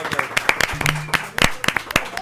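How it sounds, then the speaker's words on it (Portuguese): Brief scattered clapping from a small audience during a podcast recording, sharp irregular claps mixed with murmured voices, close and fairly loud. "Salve de palmas para essas mulheres aqui,"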